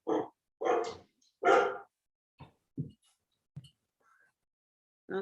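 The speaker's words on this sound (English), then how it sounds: "Hopefully you don't hear my dog too loudly, do you?" A dog barks indoors: a few loud close barks at the start, then shorter, quieter yips spaced apart, ending with one more bark.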